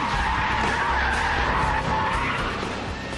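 Loud, sustained tire skid from a Brabus S V12 S Roadster braking hard on a runway, a continuous screeching rasp that eases slightly toward the end.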